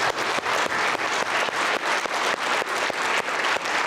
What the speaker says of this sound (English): I want to give them a big warm round of applause